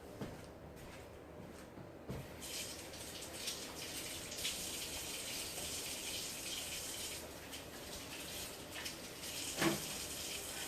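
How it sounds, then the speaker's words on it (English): Tap water running steadily into a sink while hands are washed under it, a continuous close rushing splash with small shifts in the flow and a brief clink near the end. "Let me wash my hands first."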